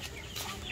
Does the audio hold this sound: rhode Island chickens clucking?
yes